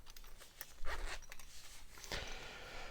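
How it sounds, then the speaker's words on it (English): Zipper on a logoed zippered pouch for a Demko knife being pulled open in a couple of quick rasping strokes, close and clear, with no talk. "A nice logoed zippered pouch with a patch on it."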